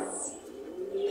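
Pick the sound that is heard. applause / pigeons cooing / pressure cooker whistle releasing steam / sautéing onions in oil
pigeons cooing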